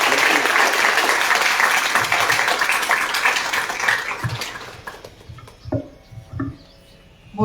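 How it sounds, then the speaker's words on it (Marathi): Loud, dense applause from a concert audience honouring two accompanists; it fades after about four seconds into scattered last claps and quiet. "सुजित आणि संस्कारसाठी एकदा जोरदार टाळ्या"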